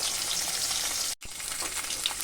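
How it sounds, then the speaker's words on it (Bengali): Fish frying in hot oil, loud steady sizzle with crackling spatter, cut by a brief near-silent gap before the frying resumes. "এভাবে উল্টে দিলে তেলটা ফাটে যে তেলটা ছিটে ওঠে"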